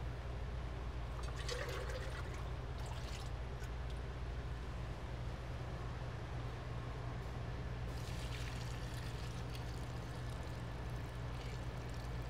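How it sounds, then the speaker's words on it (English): Water from a laboratory water bath is poured into a pycnometer, a steady soft trickling and filling sound over a constant low hum, with brief splashier bursts, faint and close. "we're going to add enough water to the pycnometer to cover the material by about an inch"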